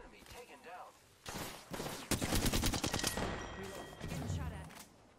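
Heavy automatic gunfire in Apex Legends, with sustained rapid bursts of loud close shots that stop and start over several seconds, some faint talk nearby.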